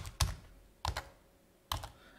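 Three separate bursts of computer keyboard typing come through clearly while PHP code is written, each a short cluster of keystrokes with quiet gaps between.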